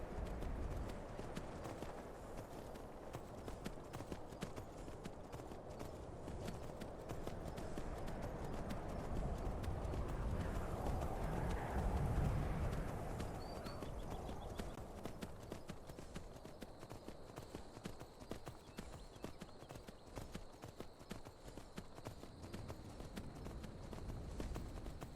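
Horse hooves galloping in the video game Skyrim, a quick, rhythmic clip-clop that carries on throughout and swells louder midway, faint overall with no talk.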